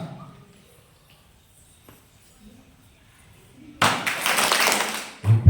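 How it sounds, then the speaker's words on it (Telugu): At a Vacation Bible School magic show, a group of children claps softly in a brief burst after a quiet stretch with faint background noise. "సైలెంట్ క్లాప్స్ కొట్టేది స్టార్ట్"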